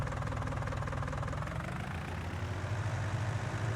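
John Deere 4020 tractor in Farming Simulator 19 idling steadily with a low, continuous engine rumble and rhythmic knock, close and even throughout.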